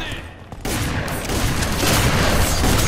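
Pump shotgun blasts mixed with heavy gunfire during co-op combat in FEAR 3, dense and loud after a short quieter opening, with a sharp burst kicking in and sustained explosive noise following.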